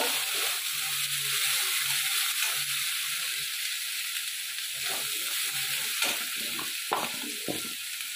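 A garlic, ginger and turmeric spice paste fries in a pan with a steady high sizzle, broken by occasional clicks and scrapes of stirring and a faint low hum.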